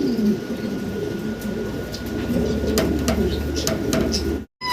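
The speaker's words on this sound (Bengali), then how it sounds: "আমরা একটা লাহরি কবুতর দেখতেছি ভাইয়ের কাছে" Lahori pigeons coo in low rolling bursts through a continuous noisy background, fairly close, with the sound cutting out briefly near the end.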